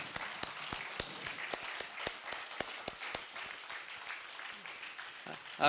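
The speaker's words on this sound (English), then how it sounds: "And so I'd like to applaud Willie." An audience breaks into steady applause, many hands clapping with regular sharp claps, moderately loud, with a brief burst of voice at the end.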